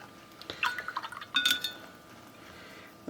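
Watercolor paint in yellow gold is flicked onto paper, making a quick cluster of small wet taps and drips followed by a second short flurry, faint and close in a quiet room.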